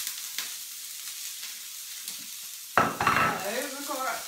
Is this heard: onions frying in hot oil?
yes